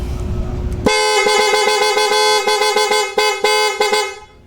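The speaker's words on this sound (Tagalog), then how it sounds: "nag-install po tayo ng malakas na busina" A loud, blaring aftermarket Piaa horn on a 2013 Suzuki Smash 115 motorcycle sounds in a series of repeated honks, some held and some short, close up, before cutting off.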